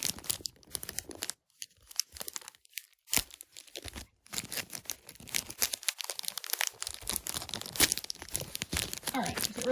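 Foil wrapper of an Animal Crossing Sanrio amiibo card pack being torn and crinkled open, with sharp ripping bursts and rustling spread through the clip alongside occasional talk.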